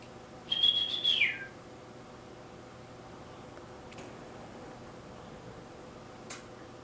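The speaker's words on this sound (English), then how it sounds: "This would like cue the birds singing at this point." A single bird's whistled chirp rises near the start, followed by a faint scattered tweet, over quiet outdoor background hiss.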